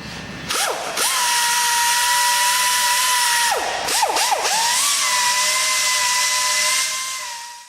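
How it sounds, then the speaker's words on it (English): Power grinder grinding out and beveling a damaged area, a loud continuous high whine that dips in pitch several times as the tool bears down on the surface. "Next we're going to grind out and bevel the damaged area."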